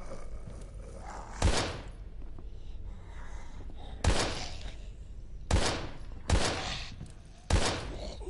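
Pistol shots from the survival horror game Daymare 1998: five sharp, loud reports spaced irregularly, one at a time, over a quiet ambient backdrop with faint rumble.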